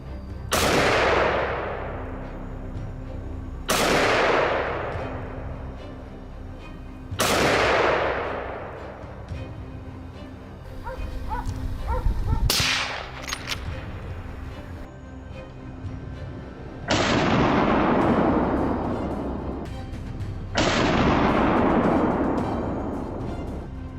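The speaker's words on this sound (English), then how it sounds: "After the thunderous explosions of gunshots, the area falls eerily silent." Gunfire rings out during a hunt for invasive wild boar in the open: about seven loud, sharp shots spaced several seconds apart, each with a long echoing decay.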